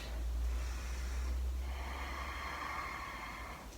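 Close, slow breathing during a yoga flow: a long airy exhale fades into a quieter inhale, soft and intimate with low room rumble underneath.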